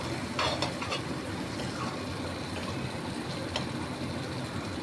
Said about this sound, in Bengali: ধরে ধরে দেখিয়ে দিচ্ছি ভাজাটা, বেশ হাই ফ্লেমে ভাজছি।